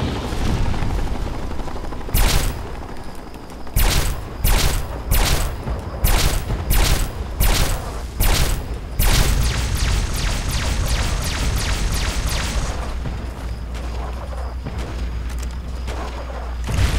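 Sharp, loud gunshots in the video game Fallout 3, fired in a rapid string of evenly spaced cracks, then giving way to a duller, sustained rumble.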